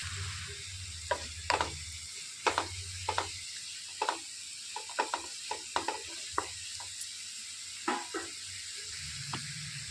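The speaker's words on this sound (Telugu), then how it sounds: "దాని మూలన ఉల్లిపాయలు అనేవి తొందరగా ఫ్రై అయిపోతాయి." Onions frying in a pan for a dhaba-style capsicum egg fry, a faint steady sizzle under a run of scattered clicks and scrapes from stirring, with no talk.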